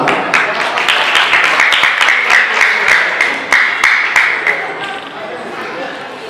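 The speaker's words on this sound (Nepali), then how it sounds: "कृपया जोरदार ताली।" Sustained applause from an audience at an annual cultural dance program, dense clapping close by that thins and fades toward the end, with crowd chatter mixed in.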